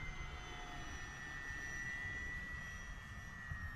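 An FMS Pilatus PC-21 model airplane on its maiden flight drones steadily overhead, a thin, constant whine of its electric motor over wind and outdoor background noise.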